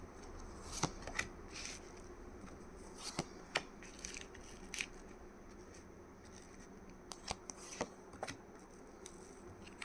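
Tarot guidance cards being shuffled and handled, quiet intermittent flicks and soft riffling snaps spread irregularly over a faint background hum.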